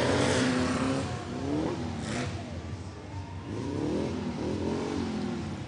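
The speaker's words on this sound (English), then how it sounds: "Doing circles, showing off those engines." Small parade cars at a university homecoming parade circle and rev their engines, a steady mid-pitched motor drone with rising revs that carries on through the whole stretch, with a faint voice in the mix.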